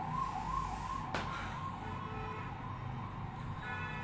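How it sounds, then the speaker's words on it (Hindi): An ambulance siren wails outside during a classroom lecture, a steady wavering tone heard muffled and moderately faint through the room, with no one speaking. "third ambulance in this single lecture"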